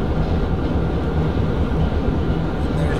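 A train in the Trainz: A New Era railway simulation game gives off a steady, dense low rumble, a continuous rolling drone with faint clatter that holds even and close throughout.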